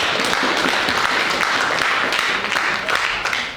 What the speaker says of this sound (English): please give them a round of applause for their presentation.